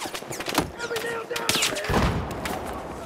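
Gunfire in Battlefield 4 with bullets striking the player, a dense burst of rapid shots and impacts, loud and close, over constant battle noise.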